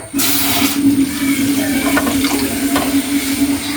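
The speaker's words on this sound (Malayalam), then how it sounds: "നമ്മൾ വെള്ളം ഒഴിക്കാൻ പോവാണ്" Water pours into a pot on a lit stove for instant noodles, a steady close rushing stream starting abruptly and running without pause, with a couple of faint clinks.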